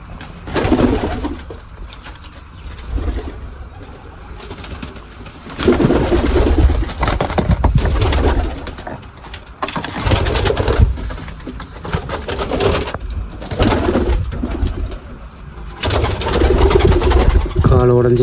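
Domestic pigeons in a backyard coop, one with a broken leg, coo repeatedly in soft, low, rolling phrases, fairly close, over a steady low hum.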